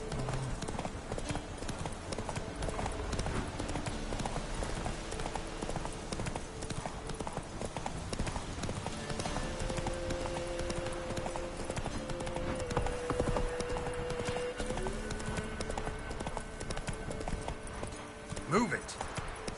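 Steady clip-clopping hooves of a horse in The Witcher 3 video game keep an even pace throughout, layered with other game sounds and voices in the background.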